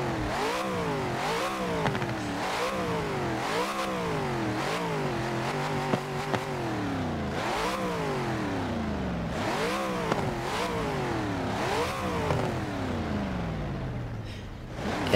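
A classic Dodge Charger in Forza Horizon 4 revs hard again and again, its engine note climbing and falling in repeated sweeps, loud and close with no talk.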